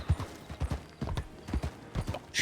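Horse hooves clip-clopping at a walk in a video game, loud and close, in an uneven rhythm of paired thuds with no voices over them.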